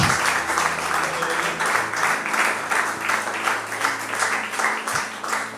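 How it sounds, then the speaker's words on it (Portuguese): A church congregation applauds steadily and loudly throughout a Pentecostal service, the clapping dense and continuous with no break. "Dá um aplauso para Jesus nesta manhã."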